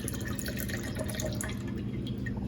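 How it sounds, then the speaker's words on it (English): Water is poured into a glue mixture in a jar for a homemade polymer experiment, a steady soft trickle and dripping of liquid heard close and alone. "Pour the water into your glue mixture."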